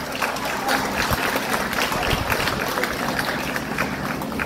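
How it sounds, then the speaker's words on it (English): Audience applauding at a tourism department event, a steady dense wash of clapping at moderate distance that keeps going without a break. "can clap louder"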